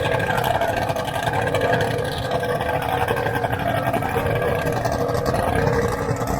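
A Donzi ZRC powerboat roars continuously at close range, its engine loud and rumbling with wind buffeting, the boat running at a launch setting.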